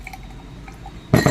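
Blended buttermilk poured into a glass, a short splashing pour with glassy clinks that starts abruptly near the end after a quiet kitchen background.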